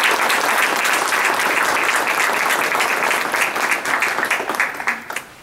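A crowd at a peace pole dedication in San Jose gives the city's mayor a big round of applause, loud dense clapping that thins into scattered claps near the end.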